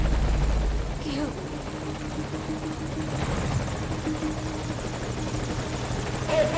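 A helicopter in Metal Gear Solid V: Ground Zeroes roars steadily and loudly throughout, with a constant rotor drone and rumble.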